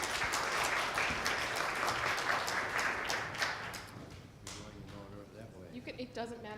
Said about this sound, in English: give a warm round of applause to our honored guests